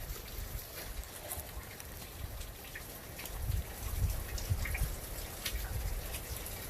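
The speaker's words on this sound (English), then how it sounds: "It's a little waterfall." A small waterfall beside a hiking trail near Lake McMurtry makes a steady, broadband wash of falling water, fairly close and continuous, with surges in the low rumble partway through; no one speaks.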